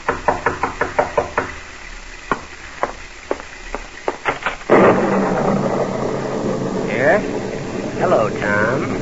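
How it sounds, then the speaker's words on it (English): A knock on the door in a classic mystery radio drama: a quick run of sharp, evenly spaced raps up close, then a few scattered knocks, followed by a loud rumbling wash of sound and a speaking voice. "you're startled by a knock on the door"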